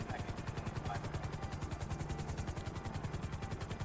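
A helicopter in a video game thrums with a steady, rapid rotor chop and engine whine, constant and close throughout, with no pauses or changes in pitch.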